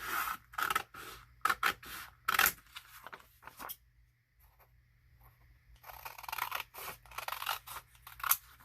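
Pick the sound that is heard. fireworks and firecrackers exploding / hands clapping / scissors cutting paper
scissors cutting paper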